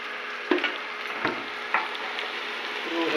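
Onion, peanuts, mustard seeds and cumin frying in hot oil in a kadai, a steady close sizzle broken by a few sharp clicks and scrapes of stirring.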